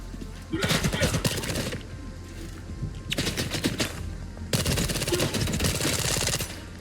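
Three long bursts of rapid automatic gunfire from a weapon loaded with ordinary rounds in the shooter game S.T.A.L.K.E.R. 2, each burst fast and dense, separated by short pauses.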